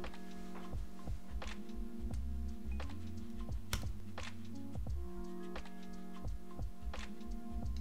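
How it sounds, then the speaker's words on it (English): Keys clicking on a computer keyboard beside CNC PCB fabrication work, a quick irregular run of close, crisp taps with a steady faint hum underneath. "So I'll just hit delete on the keyboard here."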